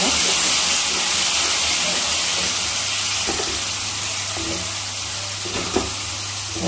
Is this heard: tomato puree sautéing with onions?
yes